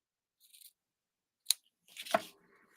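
Scissors snipping the ribbon tails of a craft bow, a few short, close cuts separated by pauses in a quiet room.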